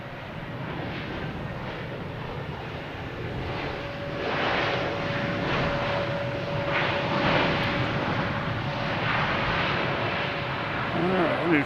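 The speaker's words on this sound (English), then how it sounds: "We have American Airlines here coming in," An American Airlines Airbus A321 jet on arrival at Boston Logan, its steady engine roar building over the clip with a faint whine, while people talk quietly in the background.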